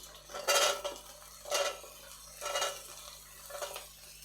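Carrot pieces frying in a pan for fried rice, with four evenly spaced bursts of stirring and scraping against the pan over a faint low sizzle, close by and without speech.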